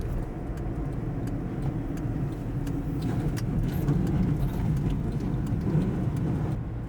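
A Japanese truck rolls along a road, heard from inside as a steady low engine and road rumble with faint ticking, continuous and fairly close, with no talking.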